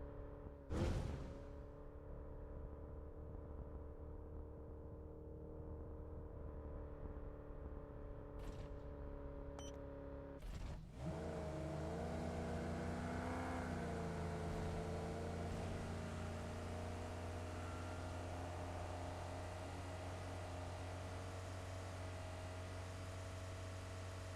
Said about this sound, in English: all four in a vehicle pushing in the zone